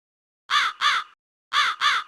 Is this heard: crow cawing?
yes